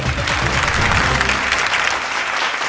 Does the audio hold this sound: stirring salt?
no